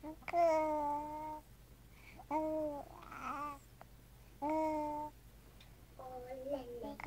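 A baby babbles in short, high, sing-song vocal bursts separated by pauses, close and fairly quiet against a faint background hum.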